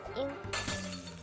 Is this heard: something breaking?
yes